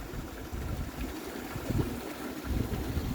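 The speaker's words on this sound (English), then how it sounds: "You can see in the distance the water pouring over the terrace above, making a waterfall." Water spilling over a terrace into a pond as a small waterfall on a homestead, heard as a steady low rushing wash from a distance, mixed with wind buffeting the microphone, with no talking.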